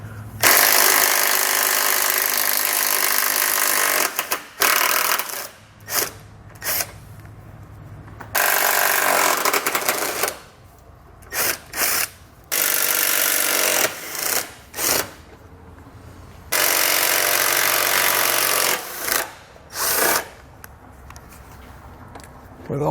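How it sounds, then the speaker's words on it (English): A 15mm socket on a ratchet or power tool removing the three nuts holding a car's bumper beam during a hidden trailer hitch installation, loud buzzing bursts in several runs broken by short pauses, close up. "So we'll grab a 15mm socket and pull all 3 of those out."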